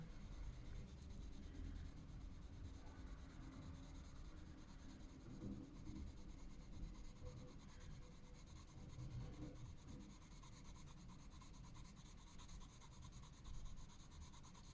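A colored pencil scratches steadily across paper, close and soft, with continuous back-and-forth shading strokes and no talking.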